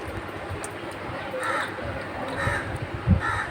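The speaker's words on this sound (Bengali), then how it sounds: "আর কাকেরা কা কা করে বেরিয়ে পড়েছে" Several crows caw outdoors after rain has stopped, near a jamun tree: three or four harsh calls at moderate distance, spaced about a second apart over a low, steady background murmur.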